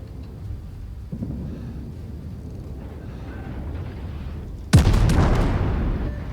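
Battleship main guns firing in the World of Warships naval combat game, a low rumbling background building into a sudden heavy boom with a long roaring tail near the end, loud and close, no talk.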